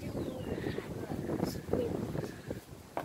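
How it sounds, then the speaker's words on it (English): Gusty wind buffets the microphone in low, uneven rumbles while people talk over it, with a few faint high squeaks in the background. "I know, it's very windy."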